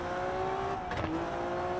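Historic rally car engine in the WRC 10 racing game, a steady continuous drone with a sustained engine tone throughout and a brief rising rev burst in the middle, no talking.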